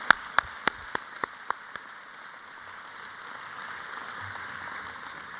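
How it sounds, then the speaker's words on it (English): Audience applauding graduates at a university engineering and information sciences graduation ceremony: a few sharp, loud claps open, then a steady wash of distant crowd clapping continues evenly to the end. "Will you join me in applauding them?"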